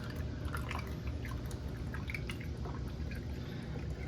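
Homemade beer wort poured through a strainer, giving a faint, steady trickle and dribble of liquid heard up close with no talking.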